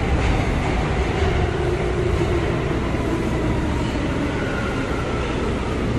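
A passenger train on an urban rail line rolls steadily along the tracks with a continuous low rumble and faint rail noise, heard from inside a nearly empty car with no talking.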